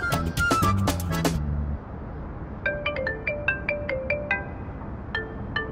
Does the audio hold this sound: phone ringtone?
yes